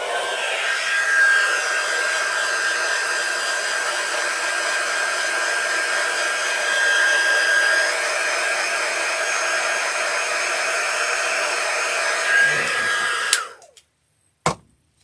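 A hair dryer runs steadily and loudly for about thirteen seconds while drying a handmade witch insert for an interchangeable window decoration, then cuts off abruptly, leaving a couple of faint clicks.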